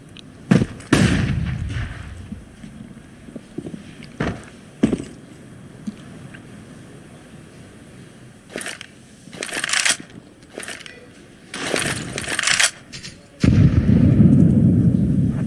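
Grenade thrown in the CS:GO game at IEM Katowice 2019, heard as several sharp bursts and bangs spread across the round, with a heavier rumbling blast near the end.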